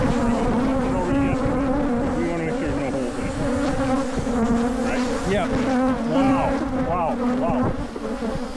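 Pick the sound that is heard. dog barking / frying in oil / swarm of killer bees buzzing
swarm of killer bees buzzing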